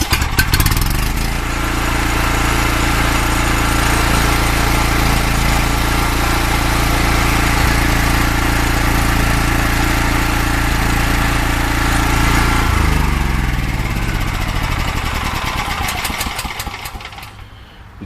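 A diesel portable generator runs at a steady, loud, even drone for about seventeen seconds, with a shift in tone near the end before it fades out. No one speaks.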